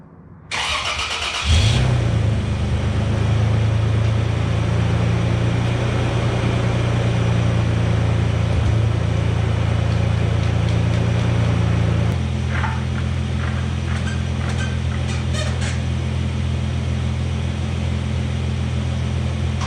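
A Toyota Tacoma prerunner engine cranks and catches, then settles into a loud, steady idle close by, the tone shifting slightly partway through as it keeps running.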